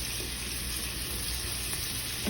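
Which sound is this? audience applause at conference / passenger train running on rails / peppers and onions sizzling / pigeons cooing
peppers and onions sizzling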